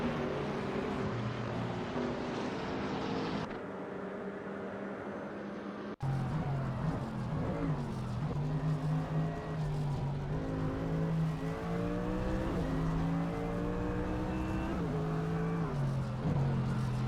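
GT3 race cars in a racing simulator video game, engines revving and shifting through gears, one close car loud over others droning nearby, continuous and without talk.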